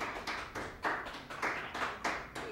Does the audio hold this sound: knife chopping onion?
no